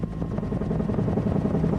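A UH-1 Huey command and control helicopter flying over a battlefield, its rotor chopping in a steady rapid thump over a dense engine roar, loud and continuous.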